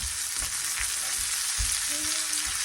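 Butter melts and sizzles in a hot pan used for pan-frying steak on a stovetop, a steady close hiss with small crackling pops and a few soft low bumps.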